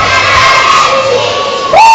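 A crowd of children at a Children's Day Zumba event jump and shout together in one loud, sustained burst of high-pitched yelling that swells and then breaks off near the end as a single voice rises above it.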